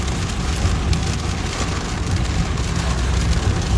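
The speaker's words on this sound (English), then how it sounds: "What the hell going on with this rain?" Steady, dense rain falls outdoors as the weather turns bad, a constant close hiss of drops striking surfaces that fills the whole stretch with no talking.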